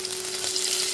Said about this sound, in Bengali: একটু হালকা গরম হয়ে আসলে আমি দিয়ে দেব কুচি করা রেখে রসুনগুলি